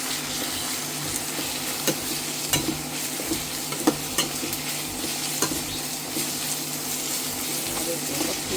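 Chopped cabbage fries in a pan with a constant close sizzle, broken now and then by light clinks and stirring taps.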